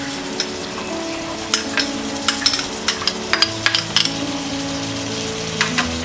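Stirring carrot, capsicum and tomato into broken wheat khichdi with moong dal, a spoon scraping and clinking against the pot in a quick run of taps over a steady low sizzle.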